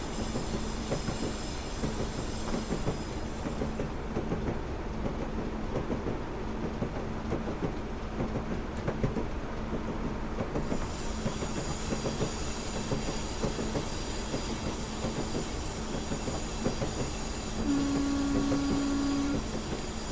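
A train running on the West Highland line in the Train Sim Classic video game, with a continuous rumble of wheels on rails and a steady drone that swells near the end.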